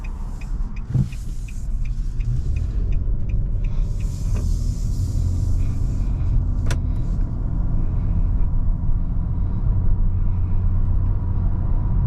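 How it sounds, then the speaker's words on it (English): A 2022 Nissan Maxima drives along a road from inside the cabin, giving a steady low rumble of road and engine noise throughout, with a few faint clicks and ticks and no talking. "So driving this 2022 Nissan Maxima, nice and smooth, very quiet,"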